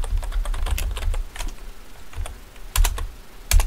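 Someone types a command on a computer keyboard while setting up DNS servers on a Linux system, producing quick bursts of close, crisp keystrokes separated by short pauses, with no speech.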